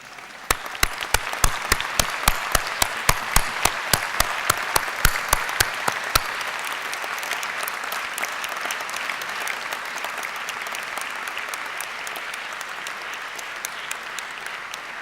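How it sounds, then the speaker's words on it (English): University graduates at a Swinburne graduation ceremony in 2011 applaud their friends and relatives. Distinct, sharp claps start the sound, then it swells into sustained, dense applause from a large crowd in a hall. "Let's stand and applaud them."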